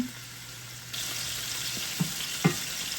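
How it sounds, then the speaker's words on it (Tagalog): Onions and tomatoes sautéing in a pan for a sardine pasta, a soft steady sizzle that brightens after a second, with a few quick utensil taps and scrapes near the end. "konting gisa-gisa mo lang yan"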